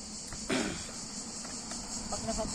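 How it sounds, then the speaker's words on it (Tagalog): Crickets chirp in a steady, faint high-pitched trill outdoors in Europe, with a brief voice and light rustling near the start. "Ang kuliglig."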